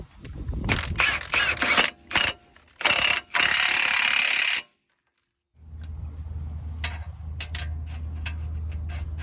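A ratchet tightens a bolt on the driver-side CV axle of a 2008 Honda Accord, with loud, rapid clicking bursts in several spurts, then a pause and a quieter mechanical background.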